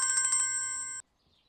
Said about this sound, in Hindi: फोन बज रहा है तुम्हारा, देखो जरा, उठा लो